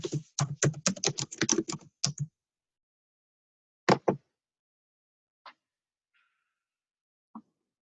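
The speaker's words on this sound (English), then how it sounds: "type in your net ID and your password" Computer keyboard typing in a quiet room: a quick burst of about a dozen close keystrokes, then a couple of isolated taps and two faint clicks after a pause, with no voices.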